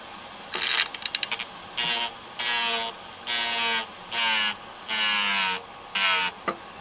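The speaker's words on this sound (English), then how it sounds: "there's a bench grinder essentially" Homemade bench grinder built from a computer hard drive, used in a tool forging workshop, runs in a string of short, regular bursts of harsh whirring and grinding with brief pauses between them, close and fairly loud.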